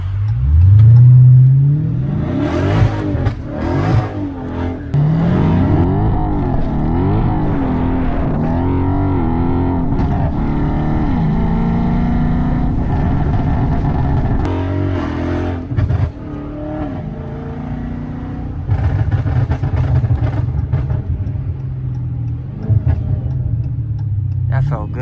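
Flame-tuned Dodge Scat Pack revving hard and sliding through turns on a rainy road, loud close engine roar rising and falling with crackles, with a voice talking over it for much of the time.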